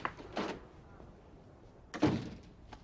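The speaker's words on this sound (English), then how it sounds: "You want your door shut?" A door is pushed shut, giving a muffled thunk near the end after an earlier softer knock, heard up close in a quiet room.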